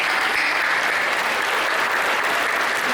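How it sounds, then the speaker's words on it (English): A large audience applauds steadily at a law school commencement ceremony, a dense, even wash of clapping that holds at full strength for the whole stretch with no voices over it. "we should applaud and thank families, employers, and friends who have supported you"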